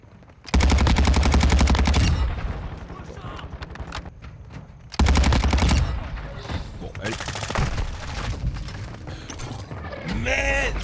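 Loud, rapid automatic gunfire in a shooter game comes in two long bursts, then scattered shots and game noise, with people talking throughout.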